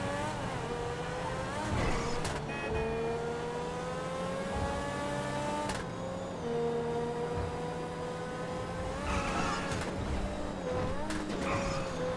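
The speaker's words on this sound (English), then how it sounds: "This car does not brake all that well for a supercar." A supercar in a video game drives hard with a sustained engine roar, its pitch rising through the gears and dropping at each shift, loud and steady and close, with no talking.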